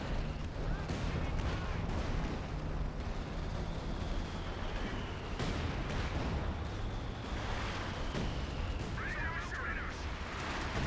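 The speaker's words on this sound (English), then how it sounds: "I saw artillery coming on down." Artillery fire in the video game Company of Heroes 2, a 4v4 battle on the Port of Hamburg map, with repeated booming blasts and rolling explosions over a dense, steady din of battle.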